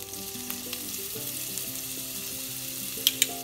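Rosemary and ginger frying in olive oil in a pan, a steady fine sizzle with soft crackles throughout and two sharp spits near the end, no talking.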